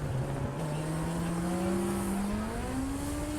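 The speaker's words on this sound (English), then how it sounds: "we're watching Morel go through. He's lapping the number 86 car of Stephen Bell" A club racing car laps another competitor on the Silverstone GP circuit during a 750 Motor Club final round, its loud, continuous engine drone climbing steadily in pitch as it passes close by.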